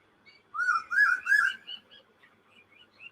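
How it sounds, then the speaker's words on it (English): Birds chattering out in the trees, a loud burst of bright whistled chirps followed by fainter scattered calls, heard clearly on their own without talking. "They're in the trees, having a chatter."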